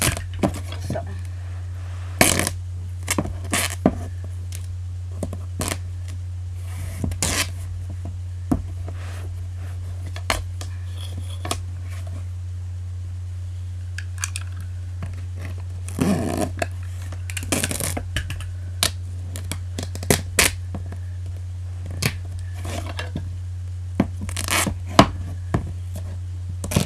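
Strips of duct tape being cut to length for a homemade wallet: scattered close crackles, rips and snips in irregular bursts over a steady low electrical hum.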